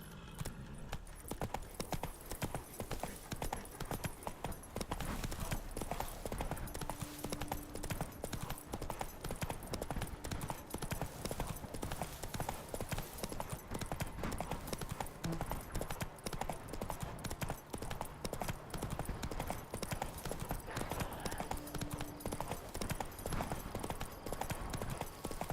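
A horse in The Witcher 3 video game trots on without a break, its hoof clip-clop dense and even for the whole stretch, moderately loud and close.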